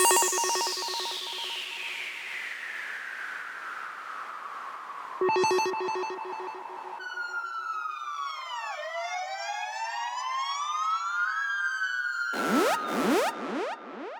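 A synthesized siren in a speed garage track, pitch sweeps rising and falling through a moving auto filter with echo, layered tonal wails and bursts of bright stabs, loud and electronic with no voice.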